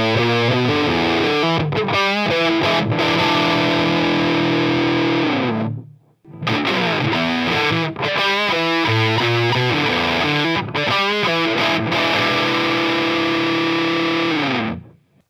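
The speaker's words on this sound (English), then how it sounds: "Fender Deluxe Reverb with the Crazy Tube Circuit's Motherload set to the Big Muff" A 1990s Gibson SG fitted with MLA pickups plays through a Big Muff-style fuzz setting on a Crazy Tube Circuit Motherload into a Fender Deluxe Reverb, giving loud, thick sustained distorted chords in two phrases split by a brief pause.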